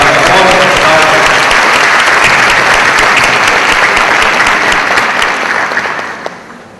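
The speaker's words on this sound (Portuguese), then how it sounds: "peço exatamente uma salva de palmas" A large audience at an administrative law conference breaks into sustained, loud applause, dense clapping filling the hall before it starts to taper off at the end.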